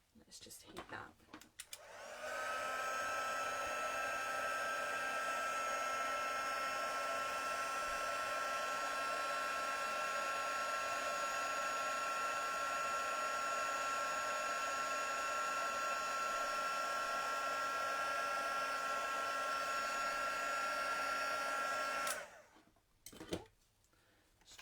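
A craft heat tool blows continuously over stamped paper for embossing, a steady electric whine with a fan hiss lasting about twenty seconds, close and even, switching on and off at either end.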